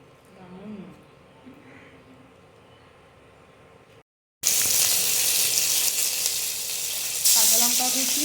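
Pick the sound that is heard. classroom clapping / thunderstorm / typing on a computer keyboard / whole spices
whole spices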